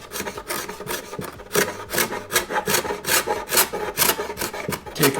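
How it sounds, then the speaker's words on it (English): A card scraper stripping old finish from a mid-century modern wooden side table, making close, rhythmic rasping strokes that repeat steadily with a scratchy, gritty texture and no talking. "This card scraper is a wonderful tool"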